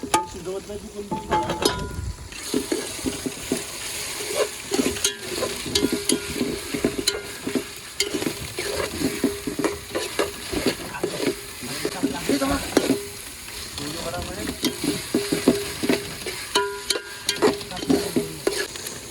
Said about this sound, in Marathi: त्याच्यामध्ये आपण कांदा टाकून घेतलेला आहे